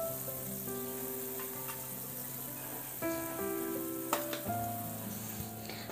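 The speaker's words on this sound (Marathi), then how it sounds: "मासे आपल्याला दोन्ही साईडनं 2 मिनिट छान फ्राय करून घ्यायचे आहेत।" Fish pieces frying in a pan over a medium gas flame for a masala fish curry give a steady sizzle throughout, with faint tonal hum and a few sharper pops near the end; no one speaks.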